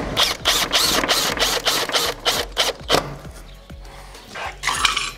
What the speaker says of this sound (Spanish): lo podemos atornillar también de fuera adentro